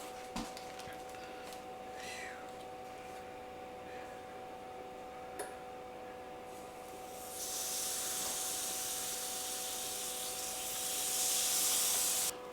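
Marinated chicken wings, one batch in pineapple sriracha, sizzling on a hot grill: a steady hiss with faint ticks and pops that surges louder and brighter partway through as more wings go down, with no talking.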